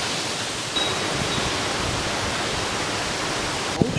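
Hurricane Matthew's strong wind roars continuously into the microphone, a loud, broadband rushing buffet with a sharp thump near the end.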